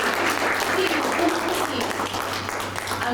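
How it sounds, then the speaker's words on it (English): An audience at a town hall presentation claps for small-business speakers, a dense patter of hands over a low steady hum, with voices mixed in beneath. "Can you please give them a round of applause when I call their names?"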